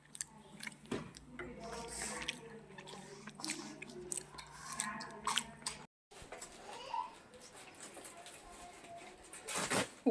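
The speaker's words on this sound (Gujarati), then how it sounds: "દાડમના દાણા ખાય છે." Someone named Dhoni chewing pomegranate seeds indoors: soft, wet, steady chewing and squishing, close by and continuous, with one short break.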